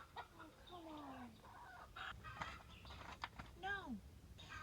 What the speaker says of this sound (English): So distracted by chickens.